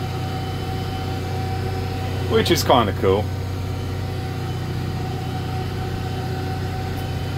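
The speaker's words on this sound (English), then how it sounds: "And the tractor's gonna do a lap" A Deutz tractor steering itself on Topcon autosteer runs with a steady, low engine drone and hum from inside the cab. Someone speaks briefly partway through.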